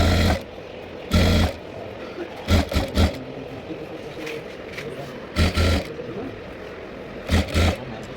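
A sewing machine stitching around a blouse neckline, running in short whirring bursts that start and stop several times, with someone talking over it.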